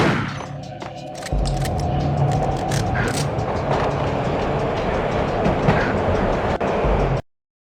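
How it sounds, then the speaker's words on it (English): Rumbling train ride in Max Payne with steady low clatter and mechanical noise, a sharp shift in loudness near the start, then continuous rolling until it cuts off. "This was my second train ride of the night."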